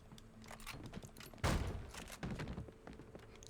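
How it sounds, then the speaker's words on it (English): A flashbang grenade in the video game Alan Wake goes off as one sharp, loud burst, set among scattered thumps and faint crackling. "Ooh, flashbang."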